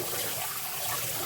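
Tap water runs steadily for rinsing a dog during a bath, a continuous broadband rush close by with no talk over it.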